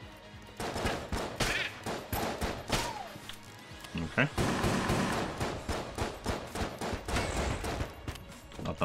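Rapid bursts of gunfire and booming explosions from Enter the Gungeon crackle throughout, with a voice speaking briefly over the action.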